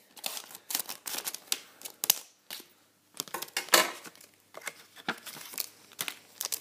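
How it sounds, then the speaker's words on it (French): A Pokémon Plasma Storm booster pack is torn open and unwrapped, its foil crinkling and crackling in close, irregular bursts with brief pauses between them. "je vais tout de suite le déballer et on va voir ce qu'il y a dedans"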